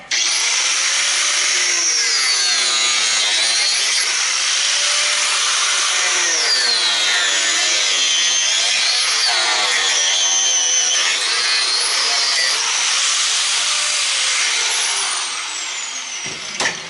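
Angle grinder cutting into a scrap push mower, a loud continuous high-pitched whine with rising and falling grinding tones as the disc bites the metal, close and unbroken until it winds down at the end.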